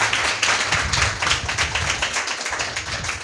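A church congregation claps loudly and steadily together during a prayer service, a dense, continuous patter of many hands with no talk over it.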